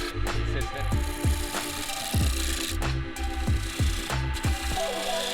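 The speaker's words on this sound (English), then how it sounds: "I switched over to a square, carbide-tipped turning tool" Square carbide-tipped turning tool cutting a spinning wood blank on a lathe, a close, rhythmic series of repeated scraping catches and gritty rasps over a steady mechanical hum, with no talk.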